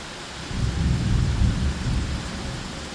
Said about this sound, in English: Pretty good thunder too. Another downpour.